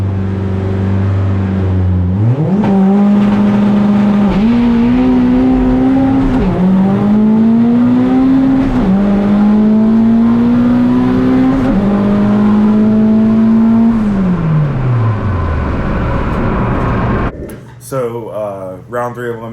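A race car launching in a drag race against a silver Toyota Supra at PFI Speedfest, the engine roaring loud and close as it climbs through several gear shifts before lifting off, with a voice talking over it.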